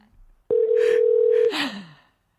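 A single steady telephone ringing tone sounds for about a second, close and clear, then cuts off into a brief breathy vocal sound.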